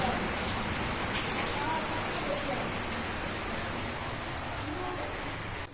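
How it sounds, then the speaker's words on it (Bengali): Steady rain falling outdoors around a home during a wet spell, a dense, even hiss of drops on surfaces that holds at an even level for the whole stretch. "অবস্থা দেখো আবার বৃষ্টি শুরু হলো"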